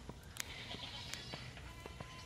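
Farm goats bleat in a few short, repeated calls, some nearer and louder than others, over a quiet outdoor background with no talking.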